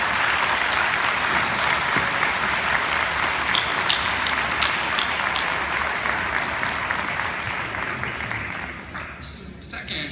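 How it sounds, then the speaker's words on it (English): A large audience of law school graduates and guests at a commencement ceremony applauds in a steady, loud roar of clapping that tapers off near the end. "I'd like to ask all the graduates to give a round of applause to all of the people in the room who have helped you get here today."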